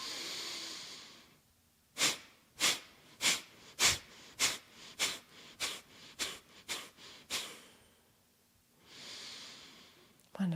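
About eleven sharp, forceful exhales through the nose come in a quick, steady rhythm during yoga breathing, close and clear. Softer, longer breaths sit before and after the run.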